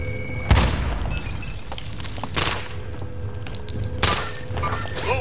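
A frag grenade explodes in a multiplayer shooter game, giving a sharp thudding boom near the start with further booms and impacts later, all set within a busy game mix.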